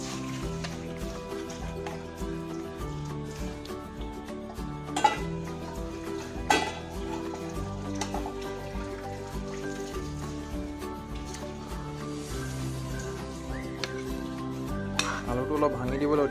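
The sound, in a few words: adding boiled potatoes to meat curry in pot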